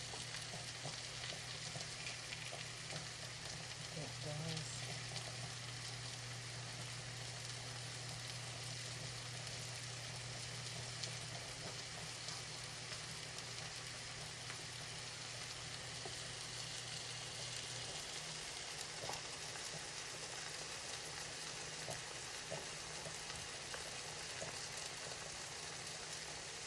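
Food frying in a pan, a steady dense sizzle and crackle continuing throughout with a faint low hum underneath.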